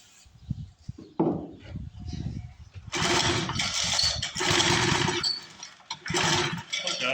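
A 1962 Hahn Eclipse rototiller engine sputters and pops as someone tries to start it, with uneven cranking bursts followed by several loud, rough attempts to fire, close by.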